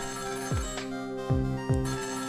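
A telephone rings in the video game Ghost Trick: three separate synthetic ring tones, each a quick falling chirp, sounding clearly over a steady game-music background.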